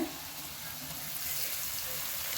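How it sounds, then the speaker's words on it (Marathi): Red chili paste sautéing with fried coriander in a pan, a steady close sizzle and crackle that continues unbroken and grows slightly louder toward the end, with no voices. "आपण सहा ते सात मिनिट छान परतून घेणार आहोत"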